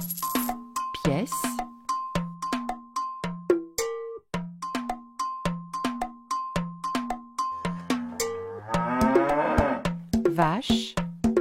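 A cow moos several times amid repeated cowbell dings and synthetic tones in a quiz sound sequence, the low moo rising loudly near the end over the rhythmic chimes.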